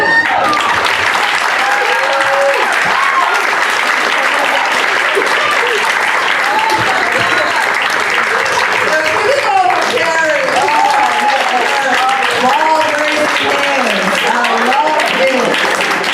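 Sustained applause from an audience at a live stand-up comedy class show fills the room steadily and loudly, with a few voices shouting over the dense clapping.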